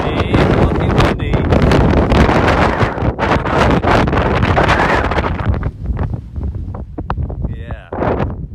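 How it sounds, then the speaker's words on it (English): Strong gusting wind buffets the microphone on the open moorland of Kinder Scout in the Peak District, a loud continuous roar with rushing surges and brief lulls, and a voice heard faintly beneath it. "It is looking windy."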